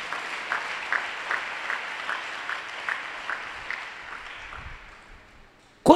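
A church congregation claps in a steady, evenly spaced rhythm that gradually fades away, followed by a sharp loud knock at the very end.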